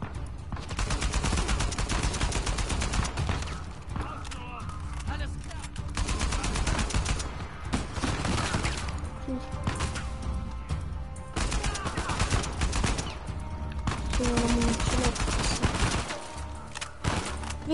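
Repeated bursts of AK-47 automatic fire ring out in Uncharted 4, in rapid fusillades broken by brief pauses, with game sound effects and occasional speech in between.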